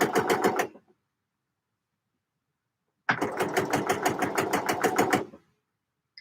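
An overlocker sewing machine stitches in two rapid, rattling bursts, a short run and then a longer one of about two seconds, separated by silence, close and clear.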